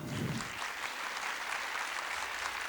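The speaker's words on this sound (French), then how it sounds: "Un tonnerre d'applaudissements pour Fanny" Applause from a seminar audience greeting the opening speaker of an inclusive-work conference, continuous close, even clapping that holds at a steady level for the whole stretch.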